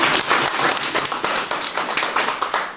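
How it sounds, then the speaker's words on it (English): Dense, continuous applause from an audience, many hands clapping close together at steady loudness throughout, with no voices standing out. "Okay, applause."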